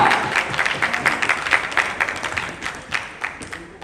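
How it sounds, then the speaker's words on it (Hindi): A crowd at an indoor launch event in Delhi NCR breaks into loud, sustained applause, dense clapping filling the room with no voices rising above it. "एक बार जोरदार तालियां"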